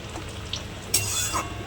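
Fish pieces fry in hot oil with a soft, continuous hiss and a brief louder sizzling burst midway, close up and moderately quiet, with no talking.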